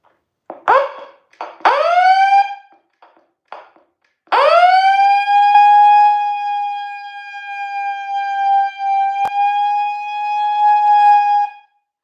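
An old Mega Mouth megaphone loudspeaker gives a few short rising siren chirps, then a long steady wailing siren tone, loud and close, with no talking.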